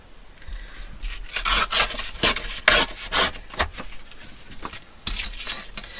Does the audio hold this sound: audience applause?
no